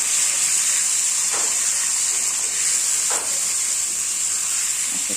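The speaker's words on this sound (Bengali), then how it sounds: "জিরা বাটা লঙ্কা বাটা নুন আর হলুদ একসাথে দিয়ে দিব। একসাথে দিয়ে এখন একটু মশলাটা কষবো।" Cumin paste, chili paste, salt and turmeric sauté together in a pan for a puti fish chorchori. A steady, moderate sizzling hiss carries through, with a few soft stirring scrapes.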